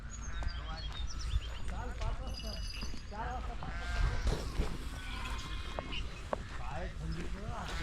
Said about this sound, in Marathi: त्याच्यात एकही मेंढी नाही, पूर्ण बकऱ्या आहे.